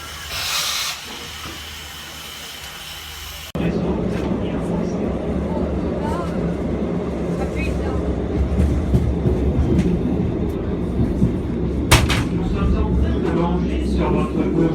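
Riding aboard an old train leaving Benedict Station in Limoges, a steady rumbling hiss with rail clatter that steps up sharply after a quieter opening, with a sharp burst near the end and people talking faintly along the way.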